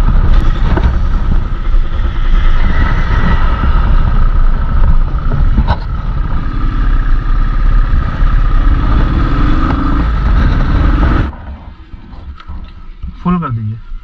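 Motorcycle riding on an Indian highway between Siliguri and Durgapur, a loud steady engine drone with wind rush up close, dropping away near the end, with a voice talking over it.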